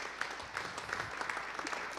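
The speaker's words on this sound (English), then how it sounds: "So give yourselves a round of applause." A church congregation applauds, a dense, steady wash of many hands clapping at once, evenly sustained throughout and heard from a moderate distance.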